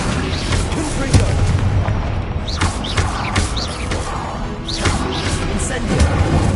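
Confringo blasting spell explosions in Hogwarts Legacy on PS5, a rapid run of booming blasts and sharp pops layered over continuous combat noise, loud and close, with chaotic battle effects between hits.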